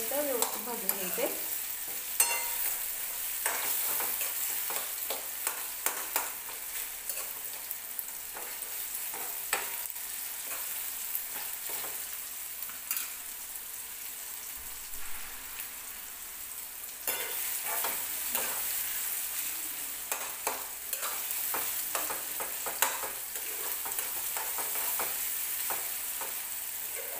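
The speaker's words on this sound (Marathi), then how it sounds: "टोमॅटो थोडं मऊ होईपर्यंत व्यवस्थित भाजून घ्यायचे" Tomatoes softening in a hot pan for a chicken curry, a soft steady sizzle with frequent scrapes and clicks of a stirring spoon, close and fairly quiet with no talking.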